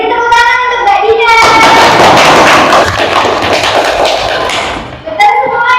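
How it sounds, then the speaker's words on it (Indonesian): A secondary school history class bursts into clapping, a loud rapid burst of many hands lasting several seconds, framed by a teacher speaking before and after it. "Baik, beri tepuk tangan untuk Mbak Dina."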